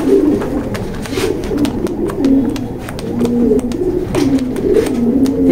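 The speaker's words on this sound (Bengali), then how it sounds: "আমি ছেড়ে দেখাচ্ছি কবুতরটা।" A pedigreed female pigeon in a loft coos repeatedly at close range, with low, throaty, rolling calls recurring steadily and occasional soft flutters or taps in between.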